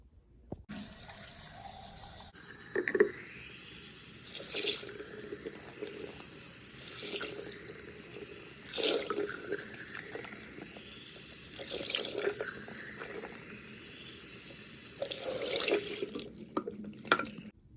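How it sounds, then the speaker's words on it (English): Water from a sink tap runs in repeated bursts while a container is rinsed out, with splashing pours and filling sounds separated by short quiet pauses, close and clear with no talking. "put water in it and then keep on pouring it out until all the soap is out"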